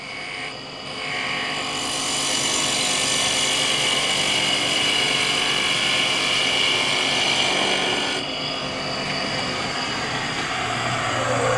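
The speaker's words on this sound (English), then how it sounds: "I'm engaging the bevel, and then I'm rolling the tool so I can tell that it starts to pick up or engage the wood" A gouge chisel cuts into spinning wood on a lathe, giving a steady, close scraping and whirring hum for most of the stretch. It eases briefly as the tool is rolled, and no one talks over it.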